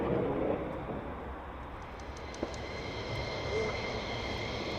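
Military jet departing RAF Lakenheath with the 494th squadron, a steady distant broadband roar holding throughout at moderate level with no talk.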